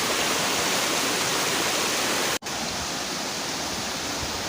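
A mountain river on a solo hike to Puncak Ciguntur rushes steadily in a loud, close, broadband roar with no talk, broken only by a brief cut near the middle.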